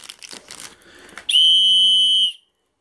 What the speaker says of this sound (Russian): Три свистульки здесь. Железные.